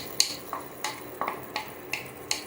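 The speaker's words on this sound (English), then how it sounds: "now we're going to spread the egg across the sauce, across the tomato sauce" An egg being spread across tomato sauce in a pan for egg stew: a soft frying hiss broken by about seven light scraping strokes at a steady, unhurried rhythm, close and quiet, with no talking.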